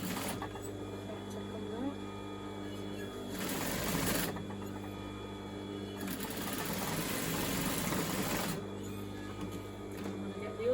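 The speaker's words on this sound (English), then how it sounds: "I'm just going to stitch on the inside of the overlocking" A sewing machine stitches along the inside of overlocking on a handmade gift garment, running steadily in two longer bursts with quieter pauses between, a low hum present throughout.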